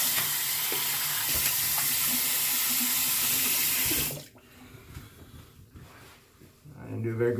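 Tap water runs steadily into a sink for about four seconds while a shaved head is rinsed, then cuts off abruptly, leaving a quieter room with faint movement and a low voice near the end.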